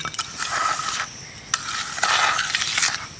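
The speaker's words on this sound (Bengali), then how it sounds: "এইভাবে দুধটাকে দিয়ে সুজিটাকে ভালো করে মিশিয়ে নিতে হবে।" Semolina mixed with milk is stirred in a bowl, making soft wet scraping strokes in two long bursts with a light clink of the utensil between them, close and fairly loud.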